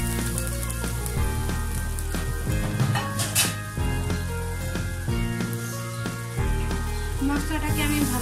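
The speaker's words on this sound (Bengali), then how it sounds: "মশলাটাকে আমি ভালোভাবে কষিয়ে নেব।" Spice paste for a beef and new potato curry fries in a pan, sizzling steadily up close as it is stirred, with background music playing underneath.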